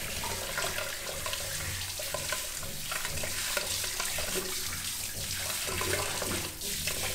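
Steady running water from a tap pours throughout while a French Bulldog is washed, a continuous broadband splashing at close range with no talk over it.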